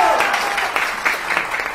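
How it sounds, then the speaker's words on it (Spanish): An audience applauds at an in-person training event for wholesalers in Tuxtla Gutiérrez, giving a short burst of clapping that runs under a speaking voice. "Otro aplauso acá, por favor, otro aplauso."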